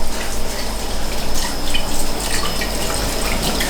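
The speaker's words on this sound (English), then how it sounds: "Let's clean a spoon here." A spoon rinsed under a running kitchen tap: a steady close rush of water with faint splashing and a light clink, no talk.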